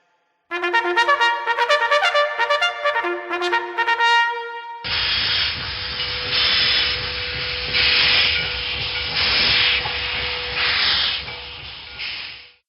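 A steam locomotive chugs with a rhythmic whistle-like tone, then a loud, sustained hiss of steam bursts out and pulses steadily as the train comes to rest.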